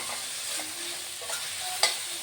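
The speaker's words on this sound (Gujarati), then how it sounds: "મીઠું નાખીને હલાવી લેશું" Pasta stirred in a pan after salt is added makes soft scraping and sizzling with a few light clinks, one sharper knock near the end, close by.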